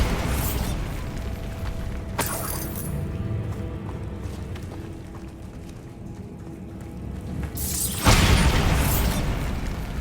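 A Bombarda blasting spell goes off in the Hogwarts Legacy video game, with a loud burst at the start of the clip, a smaller pop a couple of seconds in and a heavy explosive boom near the end, all over dense, continuous game noise.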